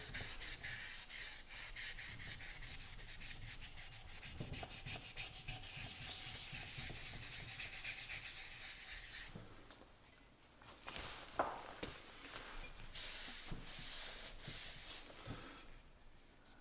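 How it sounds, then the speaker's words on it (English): Sandpaper rubs hard old paint off the metal fuel fount of a 1930s Sears Junior lantern, a close, steady rasping scrub that pauses briefly midway then resumes in quicker strokes. "I can tell this is really hard paint. I'm hardly getting any on the sandpaper."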